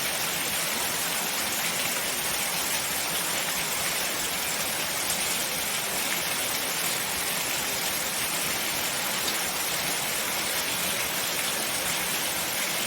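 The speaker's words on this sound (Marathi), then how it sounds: "मुसळधार पाऊस आहे मुसळधार" A heavy downpour roars without a break, a dense, even hiss of rain that stays loud and close the whole time, with no voices.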